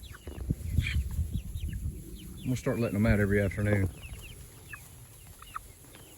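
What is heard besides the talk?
chickens clucking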